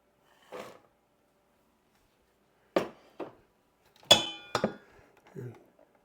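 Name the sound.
pecans dumped into pan of praline candy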